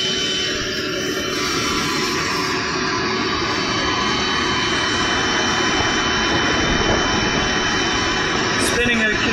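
Home-built generator running steadily at about 2254 RPM and putting out 200 volts, a loud continuous whirring drone with a strong low hum and a bright whine, steady throughout and close to the microphone.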